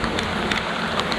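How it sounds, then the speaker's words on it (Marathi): Continuous heavy monsoon rain at a village in Ambavali, Mandangad, a steady dense hiss of downpour with faint scattered drop sounds, no voices. "पण पाऊस कंटिन्यू लागतो कंटिन्यू."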